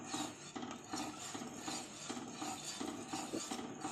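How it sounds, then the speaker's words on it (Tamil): Black kavuni rice halwa being stirred in a pan for a Chettinad sweet, a soft continuous scraping and rasping of the spoon against the pan in steady repeated strokes, close and quiet. "இந்த கருப்பு கவுனி அரிசியை நம்ம நல்லா ஆட் பண்ணிக்கிட்டு நல்லா கிண்டி விடணும்"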